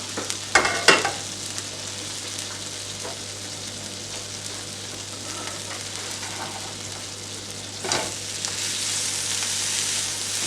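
Rava roti fries in a covered pan in a continuous close sizzle, with a few clatters near the start and another bump near the end as it is flipped; there is no talk.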